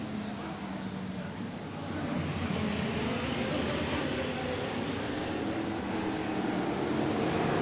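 A turbine-powered IndyCar race car runs on the course at the American Speed Festival, giving a steady jet-like whooshing roar that swells louder as it approaches, heard alone.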